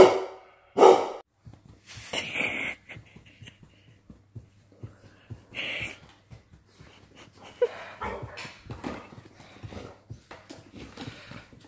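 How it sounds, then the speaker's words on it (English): In a barn, a dog reacts to a stray kitten with scattered short barks and whimpers, separated by quiet gaps and a few metallic clanks, close and moderately loud, with no talking. "Don't bark at him."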